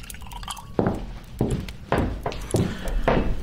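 Cognac pours into a glass in a radio drama scene, a series of liquid splashes and drips with a faint glassy clink, close and clear, with no talking over it.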